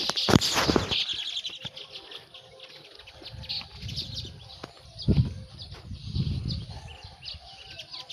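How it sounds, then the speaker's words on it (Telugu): Small birds chirp in quick bright bursts close by in a village in the early morning, with lower cooing and rustling mixed in throughout. "సౌండ్స్ వినిపిస్తున్నాయా ఫ్రెండ్స్ మీకు ఆ పిట్టగుడ్లే?"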